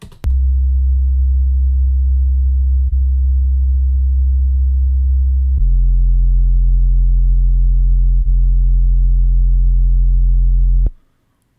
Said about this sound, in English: I have a sub bass track right here. I'll let you hear it in solo.